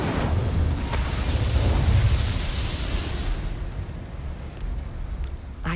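A fire spell cast in the video game Hogwarts Legacy, a loud whooshing roar of flame that swells over the first two seconds and then fades into a long, steady crackling rush, alone without talk.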